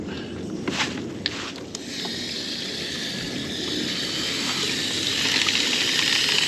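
Water pours steadily from a poop tube sluice box into a gold pan as the collected material is washed out, a continuous splashing rush that grows slightly louder toward the end, with a few small clinks early on.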